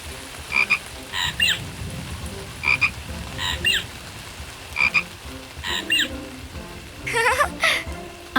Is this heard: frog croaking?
yes